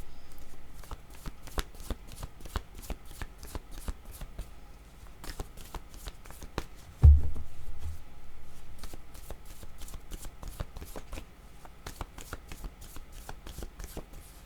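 Tarot cards shuffled by hand in a steady run of crisp riffling flicks for the whole stretch, with one louder thump near the middle and no talking.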